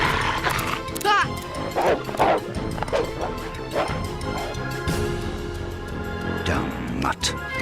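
A cartoon dog barks, yips and snarls in rapid bursts as it attacks, mixed with crashes, thwacks and excited character voices shouting over the commotion.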